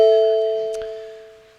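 Doorbell chimes from a Marvel superhero fighting game match, a sustained bright ringing tone that slowly fades, with a couple of short metallic dings near the middle, no talk.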